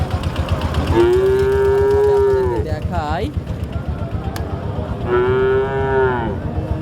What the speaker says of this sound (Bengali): ক্রস জাতের লাল গাই